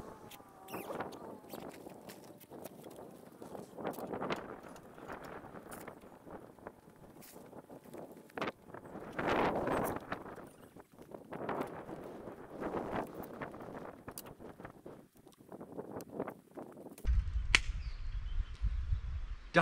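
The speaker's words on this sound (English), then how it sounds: "Now what I'm going to do is I'm going to set up my 23-0 awning on my own," A 23-0 4WD awning being set up by one person in strong wind in the Victorian High Country, with rustling, flapping fabric and knocks over steady wind buffeting the microphone, no talking.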